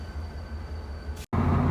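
A freight train hauling rock cars rolls past, a steady low rumble of wagons that cuts out for a split second before resuming just as loud.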